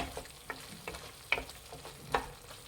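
Matar paneer masala gravy with peas is stirred in a hot pan, soft sizzling and frying under scattered scrapes and clicks of a spoon against the pan, close and fairly quiet with no talk.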